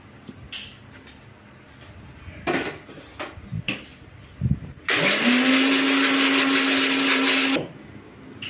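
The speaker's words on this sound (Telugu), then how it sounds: "పచ్చి కొబ్బరి దీన్ని అయితే మిక్సీ పట్టేసుకుందాం" Some clatter and clinks, then a loud mixer grinder grinding fresh coconut whirs at high speed for about three seconds before it cuts off.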